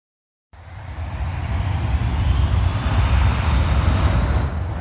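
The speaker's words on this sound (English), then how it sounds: "Airplane." An airplane in flight, a loud steady roar that starts abruptly after a short silence and holds at an even level throughout.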